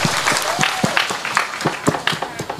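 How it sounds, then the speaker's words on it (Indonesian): Audience applause at a stage comedy show, dense clapping from a crowd that swells and dips slightly over a couple of seconds. "Tepuk tangan buat semuanya."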